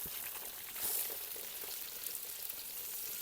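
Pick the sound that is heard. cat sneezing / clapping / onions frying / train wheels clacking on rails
onions frying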